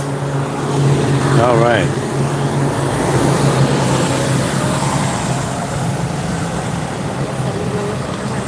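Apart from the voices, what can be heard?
loud bus passing by in street traffic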